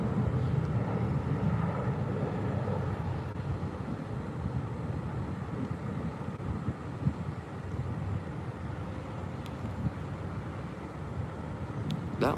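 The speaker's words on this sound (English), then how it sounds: "We're gonna go back to that Air China cargo 747-400 freighter." An Air China cargo Boeing 747-400 freighter at LAX produces a steady, broad jet engine roar, continuous and moderately distant, with wind buffeting on the microphone throughout.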